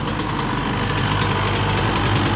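A 2016 Suzuki RM 85 dirt bike, newly rebuilt after being found in boxes, idles at close range with an even, continuous burbling engine note and no break.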